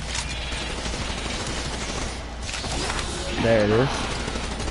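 Continuous gunfire in the Zetsubou No Shima zombies map of a shooter game, a dense steady rattle of shots with a person speaking briefly over it.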